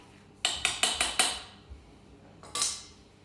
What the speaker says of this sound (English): And into this, we're gonna whisk our dry ingredients